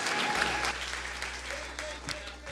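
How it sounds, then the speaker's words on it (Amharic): A church congregation at a prophetic worship service claps together, a sustained wash of applause with voices mixed in, fairly distant and steady throughout. "አጨብጭቡ ለጌታ።"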